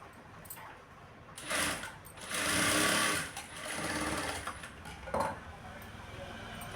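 A sewing machine stitches a blouse lining in short bursts, the motor whirring in uneven runs of a second or more between pauses, close and fairly quiet, with faint background sounds.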